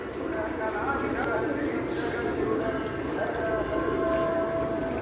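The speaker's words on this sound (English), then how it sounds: "I'm very happy that lots of birds are there today." Many birds gather at an outdoor feeding spot, with a dense mix of chirps, coos and fluttering close by, while a person talks over them.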